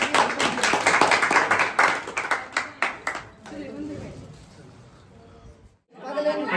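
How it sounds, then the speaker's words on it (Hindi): Several people clap together at a family gathering, a quick burst of sharp handclaps that thins out and stops, followed by chatter and talking. "तालियां बहुत बढ़िया"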